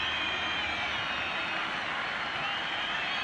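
Away fans of CD Tenerife in a football stadium crowd make a steady, broad roar with a high, sustained chanting tone, continuous and distant-sounding throughout.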